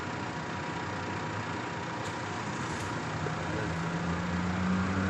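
A vehicle engine, just repaired for low power and showing a check-engine fault, idles steadily nearby with a continuous low rumble and dense mechanical noise. It rises slightly toward the end.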